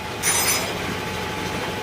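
A motorcycle engine idles close by, a steady low putter with regular pulsing beats and a brief higher whine near the start.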